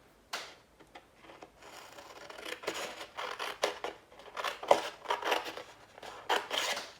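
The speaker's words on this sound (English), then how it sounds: "I'm going to probably have to trim it a little bit with scissors first." Scissors snip repeatedly through paper in short, uneven cuts, close and fairly loud, with brief pauses between strokes and no talking.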